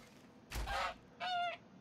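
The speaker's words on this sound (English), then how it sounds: "Wait a second. I hear chicken." Two short fowl calls from a chicken in the video game ARK: Survival Evolved, a brief squawk then a higher clucking note, faint against quiet game ambience.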